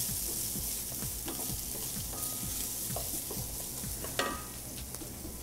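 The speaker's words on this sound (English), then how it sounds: "Rice is toasting up nicely" Rice toasting in a pan for risotto gives a steady soft sizzle and crackle, with occasional light scrapes and taps of stirring, close and fairly quiet throughout.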